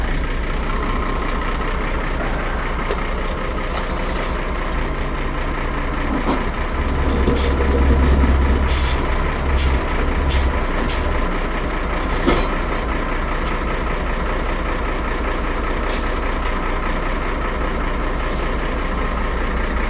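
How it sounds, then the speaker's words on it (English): A heavy truck idling and manoeuvring, its low engine rumble steady throughout, with short sharp hissing bursts of air brakes in the middle, loud and close with no talk. "I think if I screw the truck around now, I should be able to get on the bin."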